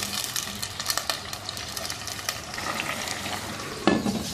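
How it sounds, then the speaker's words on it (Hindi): Yogurt is stirred into Pakistani desi-style chicken korma sizzling in a pan, a close, steady frying hiss with scraping spoon strokes and a sharper clatter near the end. "अच्छी तरह से मिक्स कर देंगे दही को।"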